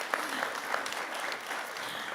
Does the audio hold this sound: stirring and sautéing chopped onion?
no